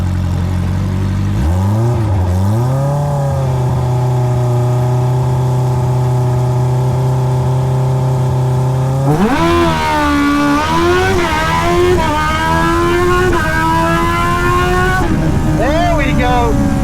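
A 2025 Hayabusa drag bike is held at a 4,000 RPM launch. Its engine drones loud and close at a steady pitch, then revs sharply higher and climbs through several rising pulls as it launches.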